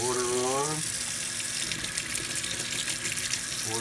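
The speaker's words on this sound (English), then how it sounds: "And we'll turn the water on." Hot water runs from a kitchen tap into a sink, a steady close hiss and splash that fills the whole clip, with a short burst of background music at the start.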